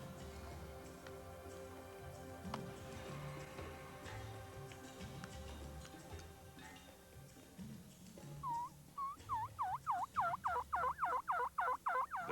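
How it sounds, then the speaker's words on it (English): Wild turkey gobbling in a rapid pulsed series, loud and fairly close, following a stretch of quieter outdoor ambience. "I heard this turkey gobbling."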